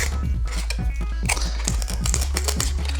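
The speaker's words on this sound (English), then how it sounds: "Now we can carefully cut a bevel cut through our elevons." A blade slices a bevel through foam board elevons on a model aircraft wing, a close series of short scratchy crunching strokes repeating steadily over a low background hum.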